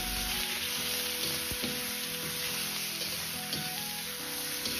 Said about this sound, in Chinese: 把蒜子炒至微黄，接着下入控干水分的冬瓜翻炒